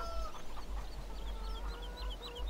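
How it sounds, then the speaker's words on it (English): Free-roaming chickens clucking on a farm in Farming Simulator 17, a string of soft, wavering clucks and chirps at moderate distance over a steady low rumble. "You got free roaming chickens"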